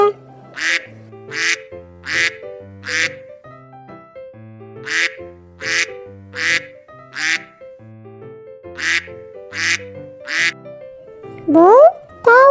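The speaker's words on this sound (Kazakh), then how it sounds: "Үйрек кря кря кря кря кря, кря кря кря кря кря дейді." A duck quacks loudly in repeated bursts of four quacks separated by short pauses, three rounds in all, with a voice speaking briefly at the end.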